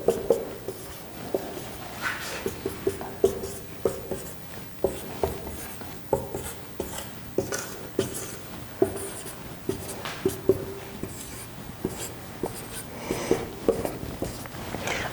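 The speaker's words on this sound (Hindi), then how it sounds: "अंग्रेजी वर्णमाला लिख दो।" Pen or chalk writing out the English alphabet, a steady series of short scratchy strokes and taps in an irregular rhythm, close and clear, with no speech.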